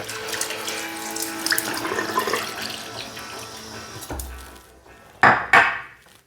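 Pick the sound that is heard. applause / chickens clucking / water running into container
water running into container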